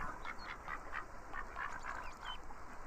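Ducks in the VR Chat Udon Bird Sanctuary quack in a lively cluster of short, overlapping calls, close and continuous, with no voices.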